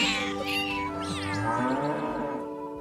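A cat sound effect, wavering meows, blends into a deep cow moo, loud and continuous over nearly three seconds with no talking.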